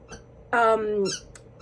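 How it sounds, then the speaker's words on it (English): A dog's squeaky toy lets out one loud, drawn-out squeak followed by a couple of shorter chirps, close by, with brief bits of voice around it. "excuse the squeaking in the background, that's my dog"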